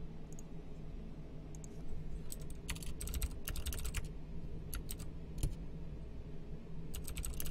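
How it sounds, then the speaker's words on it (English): A computer keyboard clatters in scattered bursts of rapid, crisp keystrokes broken by brief pauses, close and clear over a quiet steady room hum during a live game stream. "I'm going to type it in chat right now"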